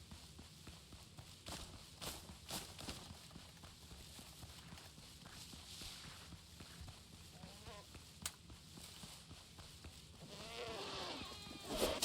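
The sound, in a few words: goats bleating in a video game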